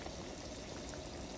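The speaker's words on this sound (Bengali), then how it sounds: "এই যে দেখুন এখানে হলো বিফ রান্না হচ্ছে।" Beef curry simmers in a covered pot, a faint, steady bubbling burble heard close and alone.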